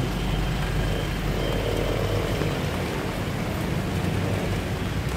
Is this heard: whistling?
no